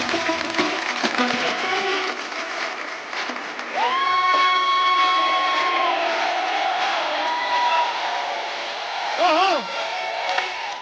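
Studio audience at a comedy talk show cheering and clapping loudly as a rap singer is welcomed, with sustained shouts, whoops and a long held yell over steady applause.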